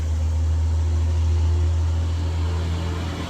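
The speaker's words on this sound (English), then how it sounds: "Excuse all the background noise. I'm right on the highway here." Steady highway traffic roar beside the road, a deep continuous hum with a broad wash of passing-vehicle noise, loud and unbroken.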